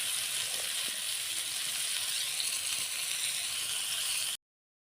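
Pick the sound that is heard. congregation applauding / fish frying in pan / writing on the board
fish frying in pan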